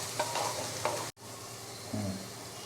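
Curry paste frying in a pan for a simple chicken curry while being stirred: a steady close sizzle with a few scraping strokes, and no talking.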